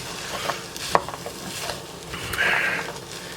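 Chopped onion, celery and small potatoes sauté in a soup pot, with a soft sizzle under scattered spoon clinks and scrapes and a brighter hiss swelling near the end; no talk.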